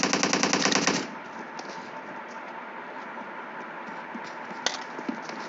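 Rapid automatic gunfire in PUBG Mobile rattles out in a fast, loud burst for about a second, then gives way to steady ambient noise with a couple of faint, distant pops.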